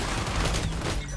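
Gunfire in the shooter game XDefiant, a dense loud burst of shots lasting about a second with no talk over it.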